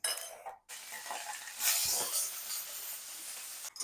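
Paneer cubes frying in hot oil in a home kitchen give a steady close sizzle and hiss, with a short clatter of a utensil stirring the pan near the start.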